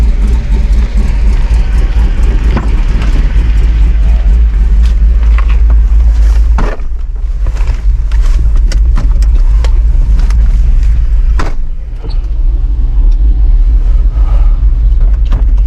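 Heavy, deep rumble from a small car with a swapped-in 5.3 V8 engine runs continuously and loud up close, with a couple of brief throttle blips and some wind buffeting.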